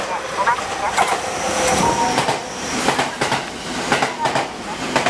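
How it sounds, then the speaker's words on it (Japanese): A JR West 289 series limited express Hashidate train runs through a station without stopping, its wheels clattering loud and steady over rail joints with rhythmic clacks, while a platform announcement plays over it. "まもなく列車が参ります。 危険ですから、ホームの内側に下がってお待ちください。"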